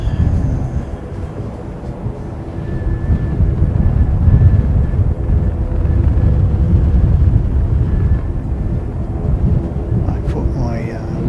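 A passenger aircraft on the Tauranga flight gives a low, broad rumble that swells and then holds. The roar is heard outdoors through wind buffeting on the microphone, with some speech over it.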